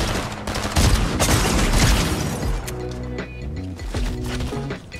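Rapid bursts of gunfire in the video game Fortnite, dense and loud, with shots crackling over one another for several seconds before thinning out.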